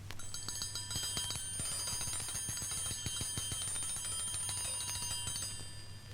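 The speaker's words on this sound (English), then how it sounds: "A prettier, gentler sound is the triangle" An orchestral triangle is struck in a rapid, steady tremolo, a bright metallic ringing shimmer sustained for about six seconds, clear and alone with no voices.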